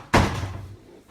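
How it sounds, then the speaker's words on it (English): An apartment door in Madrid shuts with one sharp, close thud, followed by a short fading rattle and then quiet. "Shut the door behind me so that I don't let all the cool air out."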